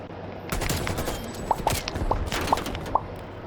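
Gunfire from an online shooter video game crackles in a run of sharp shots about once every half second, each a bright snap over a busy, continuous game-sound bed, with no talk.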